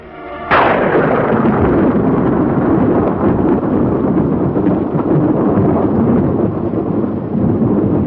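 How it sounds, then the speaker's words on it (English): A massive explosion's blast wave rolls over battlefield trenches, a sudden loud boom followed by a long, sustained low roar and rumble that fills the whole stretch without letting up. "Seconds later, the blast wave reaches the trenches."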